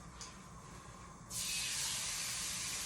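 Pork chops dropping into shimmering hot olive oil, a steady bright hiss jumping up suddenly and holding loud and close after a quieter stretch of background noise.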